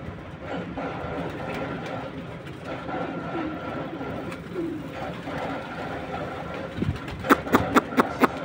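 Pigeons in a home loft coo softly amid a busy background, with a run of sharp rhythmic clicks or flutters near the end.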